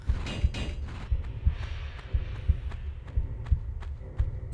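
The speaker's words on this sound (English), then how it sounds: "you can still hear the heartbeat of the living organism that is this crazy continent and its pyramid" Steady pulsing heartbeat ambience inside the Great Pyramid of Atlantis in Tomb Raider Remastered, a deep double thump repeating roughly once a second under a low droning hum, with no voices.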